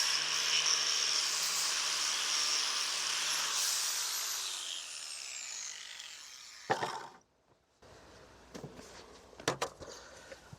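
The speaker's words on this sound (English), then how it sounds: "The grinder really cleaned it up nice." An angle grinder smooths a welded end cap on a steel trailer hitch, a steady loud whir that spins down around the middle, followed by quieter scattered clanks and knocks.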